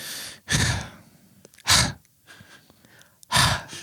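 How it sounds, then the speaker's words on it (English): Heavy breaths blown close into a microphone, three loud gusty exhales separated by quieter pauses with faint rustling. "Please stop breathing into the mic"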